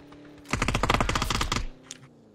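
Gunfire in a video game: a rapid, loud automatic burst of about twenty evenly spaced shots lasting roughly a second, close, with a faint extra shot just after it. There is no talking.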